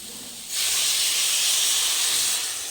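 Water poured into a hot pan of frying tomato and capsicum for a soybean gravy, setting off a sudden loud hiss of steam that holds steady for about two seconds before easing slightly, with no voices.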